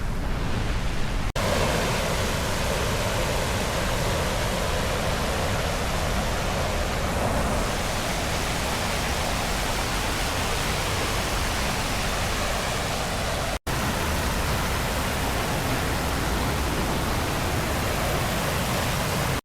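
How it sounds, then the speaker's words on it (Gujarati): Water from the main fall of Zarvani waterfall in Narmada district, Gujarat, makes a loud, steady, unbroken rush close by, with one momentary dropout near the end. "ઝરવાણીનો જે મેન ધોધ છે આ એનું જ પાણી છે."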